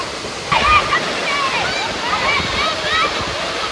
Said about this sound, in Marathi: हा आहे डुक्करकडा वॉटरफॉल. कोल्हापुरातील एक प्रसिद्ध वॉटरफॉल पैकी एक आहे.